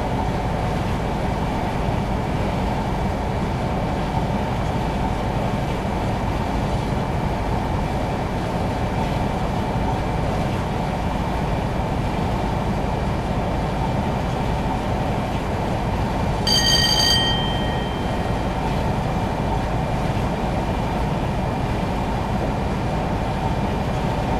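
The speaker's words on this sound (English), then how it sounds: "I'm then going to idle the power and allow the train to coast" A Class 52 diesel train coasts with power idled in Train Simulator 2015, a steady rumbling rolling drone with a faint constant tone, broken by one short high metallic squeal partway through.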